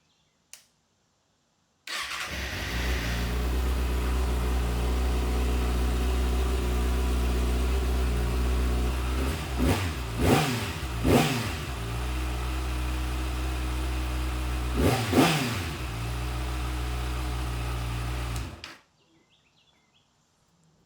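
A 2025 Kawasaki ZX6R motorcycle with its stock muffler cold-starts and idles steadily and loud for about sixteen seconds, with a few brief throttle blips rising over the idle before the engine cuts off.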